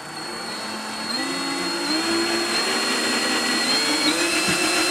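A permanent magnet 12 volt DC generator motor meant for a wind turbine spins at low RPM, making a continuous near whirring hum whose pitch rises slightly and wavers as it runs, with no speech over it.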